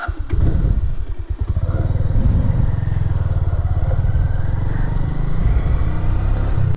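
A Bajaj Pulsar 150 motorcycle engine runs steadily and loudly close by, with a rough, slightly uneven chugging throughout as the carburetor runs almost out of fuel.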